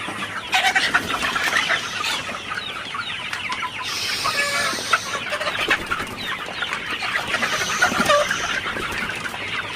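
Sonali super hybrid chickens, about 53 days old, cluck continuously at a farm on a hot sunny morning, a dense flock chorus close by with scattered louder calls.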